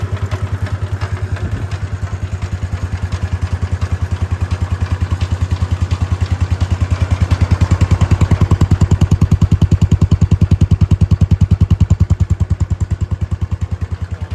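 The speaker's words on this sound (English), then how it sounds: "Lovely sounding engine." A Wheel Horse C-120 garden tractor's small engine running steadily with a rapid, even chugging pulse, loud and close, speeding up slightly midway before settling back.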